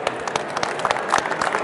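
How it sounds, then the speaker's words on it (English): Audience applause at a business roundtable session, a dense steady wash of many hands clapping at moderate loudness, lasting briefly with no talk over it. "let's give him a round of applause for that"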